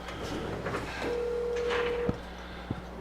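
An outgoing phone call gives a single steady ringback tone lasting about a second, followed by a couple of soft clicks over a hum of room noise.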